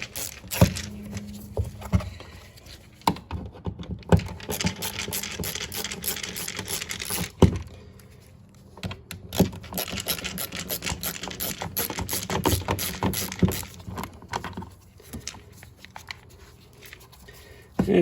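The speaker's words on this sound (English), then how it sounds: "we're just going to take and remove these screws using a Phillips head" A Phillips head screwdriver backs screws out of a Land Rover door panel, giving close, irregular scratching, rubbing and clicking with occasional sharper knocks throughout.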